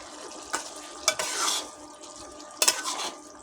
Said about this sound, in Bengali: দিয়ে ভালো করে নেড়ে দেব